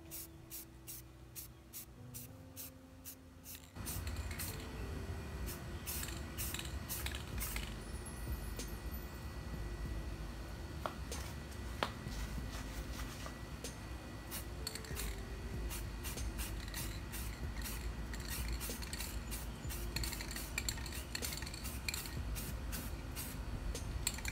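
Spray paint misting onto a Dollar Tree centerpiece: a few short spray bursts, then a long steady hiss broken by brief pauses, close and fairly quiet.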